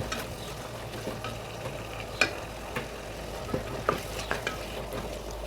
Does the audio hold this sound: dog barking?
no